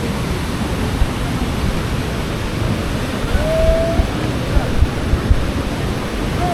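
Busowoko Falls waterfall in Jinja, Uganda, a dense continuous roar of rushing water, loud and steady, with faint voices and a brief whistle-like tone in the background.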